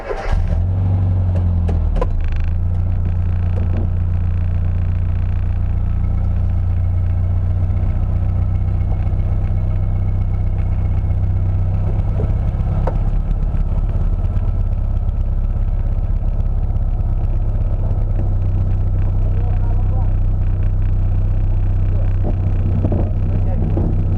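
A Classic Mini's engine runs throughout as the car is driven, a loud, continuous low rumble with a steady hum that rises and falls slightly, with people talking over it.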